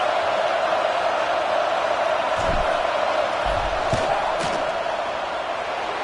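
Football stadium crowd in Miami roars steadily ahead of a 47-yard field goal attempt, a dense continuous wash of voices with a few sharp thuds and swells rising through the middle.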